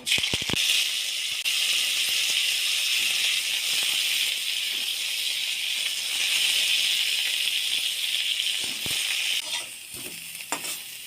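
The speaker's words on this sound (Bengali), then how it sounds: "তেলটা গরম হয়ে গেছে এবার সেদ্ধ করে রাখা কফিগুলো আমি জল ঝরিয়ে নিয়েছিলাম ওগুলো ভেজে নেব" Boiled, drained cauliflower pieces fry in hot mustard oil in a wok, giving a loud, steady, close-up sizzle and hiss with a few faint clinks near the end.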